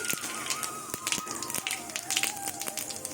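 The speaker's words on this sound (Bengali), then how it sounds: "তেল গরম হয়ে গেছে এখানে গোটা জিরে শুকনো লঙ্কা আর তেজপাতা ফোড়নে দিয়ে দেবো" Whole cumin, dried chillies and bay leaves sizzle in hot mustard oil in a kadai, a steady close hiss dotted with sharp pops and crackles, with no talking.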